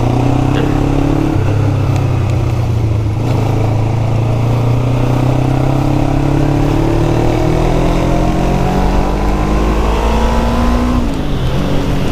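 Kawasaki Ninja 500 motorcycle engine accelerating, loud and close, its steady drone climbing smoothly in pitch through several gears with brief dips at each shift.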